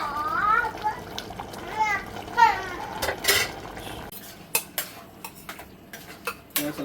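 Chicken for biryani goes into a pot, bringing clinks and scrapes of metal utensils and cookware; a voice talks over the first half, then sharp, irregular clatter takes over.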